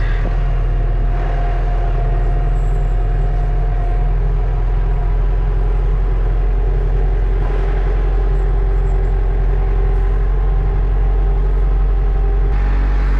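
A non-synchro truck drives through snow, its engine a steady, close, low rumble with a constant drone that holds evenly throughout without a break.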